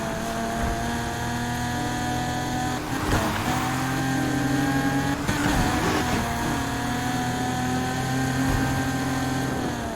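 Car engine in the Need for Speed Heat racing video game, droning steadily and fairly loud with shifting pitch and a couple of gear-change bursts, no talking.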